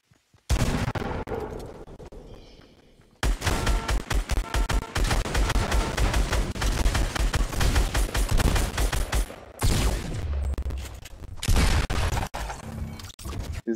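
Minigun fire in the Fortnite battle royale video game: a faint start, then a loud rapid stream of shots running for several seconds, a brief gap, and more bursts.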